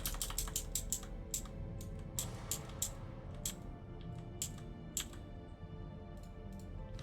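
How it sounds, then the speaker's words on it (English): Rapid clicky computer keyboard typing, close and steady, with bursts of sharp keystrokes over a low background hum and no talking. "My nice clicky keyboard all in your ears"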